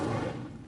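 An Incendio fire spell cast in Hogwarts Legacy bursts out as a short, loud whoosh that fades quickly within a second.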